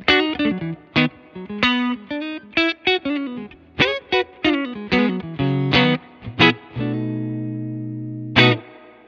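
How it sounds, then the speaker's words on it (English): A Fender Vintera 60s Telecaster Modified played straight into a '68 Custom Deluxe Reverb amp with the pedal bypassed: a loud, clean run of plucked notes and chord stabs, ending on a ringing chord. "And here's the guitar with the pedal bypassed."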